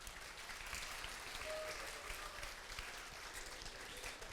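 An audience at the EJOI 2019 opening ceremony applauds the orchestra with a sustained, even burst of clapping from many hands that fills the room, with no talk over it.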